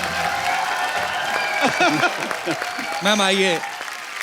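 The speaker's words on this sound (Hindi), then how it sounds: "जोरदार तालियां स्वागत" A studio audience claps steadily on a TV comedy show set while someone speaks over the applause, welcoming a guest, the clapping continuing under his voice throughout.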